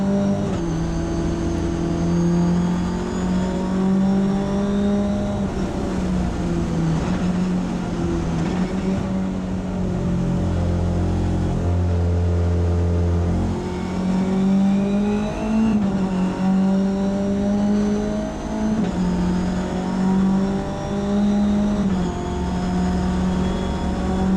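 A Mitjet race car engine droning loudly from onboard at Magny-Cours in heavy rain, its pitch climbing and dropping through repeated early gear shifts over a steady rumble of spray and wind.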